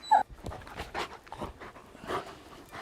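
A dog playing rough pants and lets out whimpering growls and yips in short irregular bursts, close by and fairly quiet, with no talking over it.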